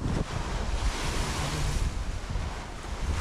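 Strong ocean waves crash and roar continuously nearby at a seaside boulevard in Amlan, Negros Oriental, Philippines, mixed with gusty wind buffeting the microphone; no voices.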